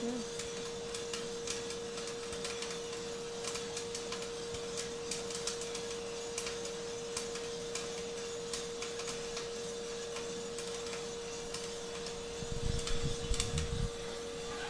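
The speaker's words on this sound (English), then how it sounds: "though the fan is going on, it's very clear and resolute, the first crack" Sulawesi coffee beans reach first crack in a gas-fired drum roaster, sharp scattered pops crackling over a steady fan hum and a constant tone, with someone talking across it.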